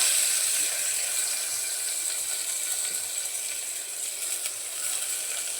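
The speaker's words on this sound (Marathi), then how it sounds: "कांदा मस्त परतून घेते" Onion with curry leaves and garlic sautéing in a little oil, a steady, close, hissing sizzle that continues evenly with no voices over it.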